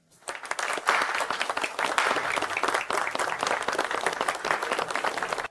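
An audience breaks into applause for the founders of a company, a dense, steady wash of many hands clapping that starts abruptly and holds at full strength throughout, with no voices over it.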